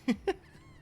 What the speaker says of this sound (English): Oh god. Oh, it's birds.